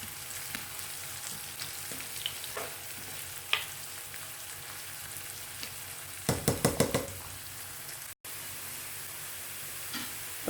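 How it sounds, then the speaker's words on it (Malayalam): Onion and garlic sauté in ghee for methi dal with a quiet, continuous sizzle, punctuated by a quick series of spoon knocks against the pan partway through. "അപ്പോൾ അതേ സവാളയും വെളുത്തുള്ളിയൊക്കെ നന്നായിട്ട് വഴന്ന് വന്നിട്ടുണ്ട്."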